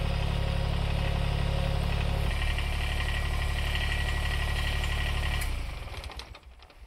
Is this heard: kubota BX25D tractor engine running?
yes